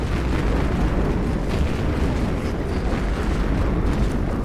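Continuous, loud, dense explosive roar from enemies blowing up in the online zombie shooter Dead Frontier, a steady wall of overlapping bursts and booms with no pauses and no voices heard.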